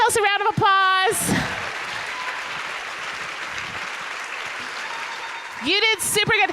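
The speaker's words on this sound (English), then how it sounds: "Give yourselves a round of applause." A conference audience applauds steadily for several seconds at an opening plenary session, bracketed by bursts of excited voices at the start and end.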